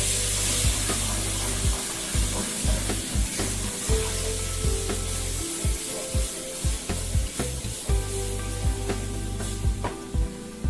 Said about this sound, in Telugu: టమాటా పల్ప్ వేసుకుంటున్నాను